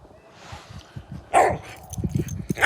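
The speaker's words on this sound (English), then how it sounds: "that's Trigger barking because he wants to play with the ball" A dog at a Wyoming camp spot barks and yips in short bursts, eager to play with a ball, with quieter whimpering sounds between the louder, close barks.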